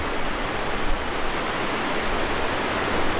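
A swollen creek near the Tapeats River in the Grand Canyon, high with spring snowmelt, rushes in a steady, loud, broadband roar of churning water, continuous and close with no voices.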